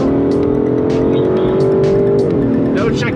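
An Aston Martin DBS Superleggera is driven hard on a track, its engine holding a loud, sustained roar whose pitch climbs and then drops, with tire noise underneath and a voice talking over it.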